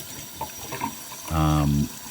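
Tap water runs into a sink during cleaning of motorcycle brake parts, a steady loud gush lasting about half a second after brief handling noises.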